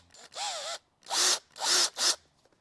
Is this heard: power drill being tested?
yes